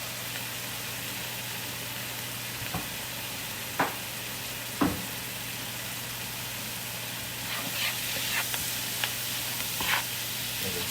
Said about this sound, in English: Stir fry it up.